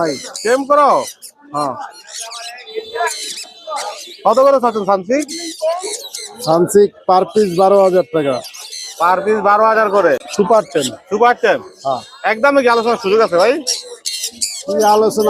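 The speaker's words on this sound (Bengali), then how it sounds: "এখানে প্রচুর পরিমাণ কুনুর পাখি আছে" Many caged birds, pigeons and doves among them, call and squawk at a bustling bird market in Mirpur 1, Dhaka, with cooing and chirps mixed under frequent nearby human talk.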